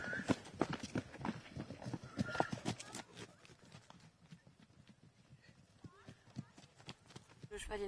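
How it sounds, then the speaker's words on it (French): Horse hooves clip-clop steadily in a horse village, with an occasional whinny and people talking over the steps; the hoofbeats come through loudest early on and fade to a lighter rhythm. "Regardez là-haut. Un cheval."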